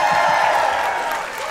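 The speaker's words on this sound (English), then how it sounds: "clap it up for Kevin." Audience applause from a studio crowd at a dating show, a brief burst of steady clapping with light cheering, fairly close and loud, fading slightly at the end.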